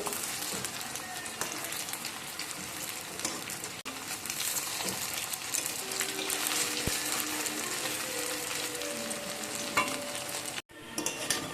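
Flattened rice and potato snacks fry in oil, producing a dense, even crackling sizzle like rain on a surface that continues steadily for the whole stretch, with a brief pause near the end.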